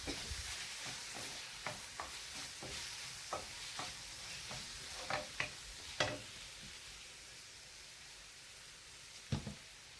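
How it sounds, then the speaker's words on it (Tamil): Tomatoes with chilli powder, garam masala, coriander powder and pepper sauté in a pan for prawn thokku, a faint steady sizzle punctuated by scattered spoon clicks and scrapes. "தக்காளியும் போட்டு நல்லா வதக்கிட்டு கூடவே ஸ்பைசஸ் எல்லாமே தான் சில்லி பவுடர், கரம் மசாலா, மல்லிப்பொடி, அப்புறமா பெப்பர் எல்லாம் போட்டு நல்லா வதக்கிக்கலாம்"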